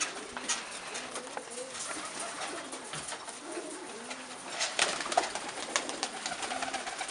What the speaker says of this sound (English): I've got them bowling pigeons out there, what else?